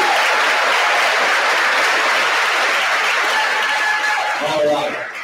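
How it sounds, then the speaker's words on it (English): Dense audience applause from a high school choir concert crowd, loud and sustained for several seconds with a few chuckles mixed in, thinning slightly at the end as a voice begins to speak. "So folks, give these folks a round of applause"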